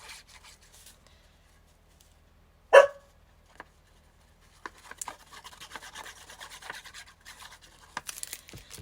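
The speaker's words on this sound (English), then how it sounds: "Emma, I apologize for Miss Emma's barky bark." A dog named Emma gives one short, sharp bark indoors. Scattered rustling and rubbing sounds follow.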